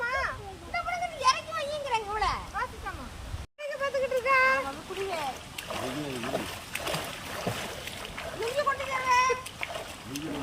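Water splashes and pours as people bathe outdoors in a forest near a temple, with irregular splashes mixed into near, lively chatter from adults and children throughout.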